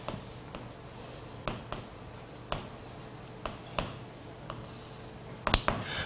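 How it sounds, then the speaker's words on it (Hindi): Chalk or marker writing the word catalyst on a board in a chemistry lesson, a series of sharp taps and short strokes at irregular intervals, close and fairly quiet with no talking. "तो चलिए लिखेंगे कैटलिस्ट।"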